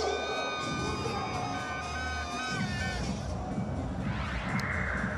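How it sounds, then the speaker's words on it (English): Cricket crowd at the 2016 CPL final between Guyana Amazon Warriors and Jamaica Tallawahs roaring and cheering after a wicket falls, a steady dense hubbub laced with shrill whoops and horn-like tones. "Crowd rather animated because the first one is down now."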